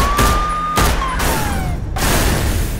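Gunfire in a Hindi police action film scene: a dense burst of loud, booming shots with a siren-like whine sliding underneath, close and continuous over a musical backdrop.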